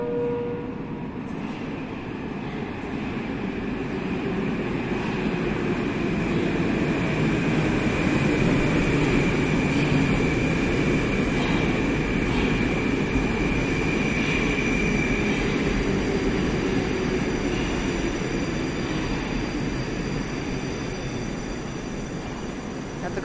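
A seven-car Big Circle Line metro train runs with a steady, loud rumble and rail roar throughout, a sustained whine riding above the continuous noise.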